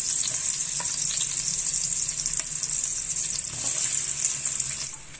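Garlic stir-frying in hot oil, a loud, steady, bright sizzle that runs continuously, with occasional soft scrapes and clinks from stirring, fading slightly at the end.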